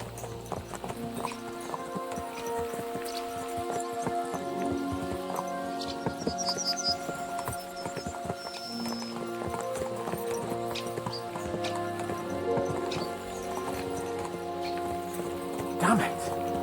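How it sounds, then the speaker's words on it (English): Horses galloping in the video game Kingdom Come: Deliverance II, a steady rhythmic clip-clop of hooves over game music and ambience, close and continuous throughout, with no talking. "Let's really spur these horses on, eh?"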